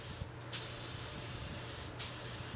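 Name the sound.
spraying finish with spray gun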